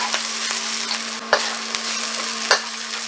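Ginger and garlic stir-fry in a piping-hot wok with a loud, continuous sizzle, broken by a few sharp clanks and scrapes from a spatula against the metal. The sound is close, and no one speaks.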